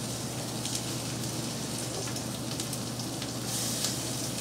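Raw deveined shrimp hit a smoking-hot pan for sautéing and sizzle in a continuous, fairly quiet hiss with fine crackles, steady from start to end and free of talk.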